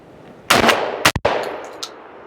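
A semi-automatic 12 gauge shotgun fires two loud, close shots in quick succession, each with a sharp blast and short ringing tail, followed by a faint metallic clink.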